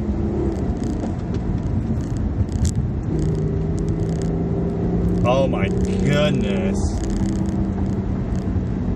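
A 2012 Acura TL SH-AWD with a manual gearbox drives through winding twisty roads, its engine hum and road noise steady and close, while a person speaks over it.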